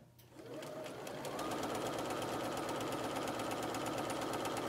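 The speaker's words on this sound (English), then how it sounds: "So I'm going to sew 1/2-inch seam on all four sides" A sewing machine stitches a half-inch seam along the edge of a cloth napkin, running as a steady, close, continuous mechanical whir with rapid needle ticking and no talking.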